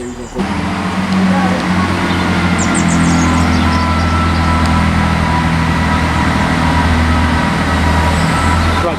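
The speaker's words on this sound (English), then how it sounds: "departing out now is the 10:33 service to Birmingham International from Holyhead" A passenger train pulls out of Shrewsbury station bound for Birmingham International from Holyhead, a loud, steady low engine rumble and drone sustained close by throughout, with a faint high squeal briefly rising above it.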